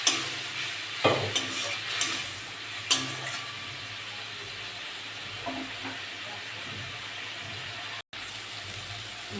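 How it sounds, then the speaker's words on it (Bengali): Spice paste frying and being stirred in a pan for a pomfret fish curry, with a few splashes of water added; steady soft sizzle with occasional sharper stirring scrapes, fairly close, no talking. "মশলা ভালো করে কষা হয়ে গেছে"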